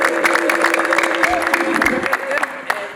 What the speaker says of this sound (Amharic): እልልታና ጭብጨባ